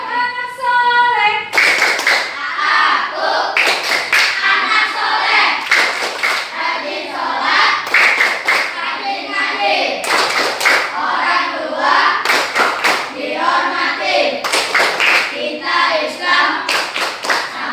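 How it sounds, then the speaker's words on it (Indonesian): Children in a classroom doing the rhythmic 'tepuk anak soleh' clap, regular bursts of group hand claps alternating with sung chanting voices throughout. "Tepuk anak soleh."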